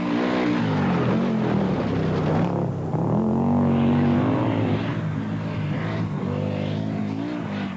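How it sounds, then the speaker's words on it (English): An Audi Quattro rally car at the Dubai Rally, running with damaged exhaust pipes and a flat engine note, roars loudly and continuously, its revs rising and dipping throughout. "down on power because of damaged exhaust pipes and a consequent flat-sounding engine note"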